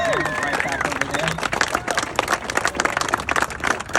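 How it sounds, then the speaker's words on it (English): An audience at an office grand opening and ribbon cutting in Utah claps in a burst of applause that builds into sharp, dense clapping, with voices talking over the start. "So I want you to give a warm round of applause for Jen and Ryan"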